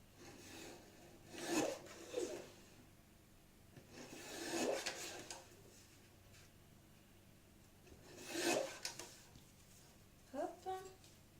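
Small paper labels cut with a small saw for a mini album, producing a few short rasping strokes in separate bursts, close and quiet, amid faint room noise.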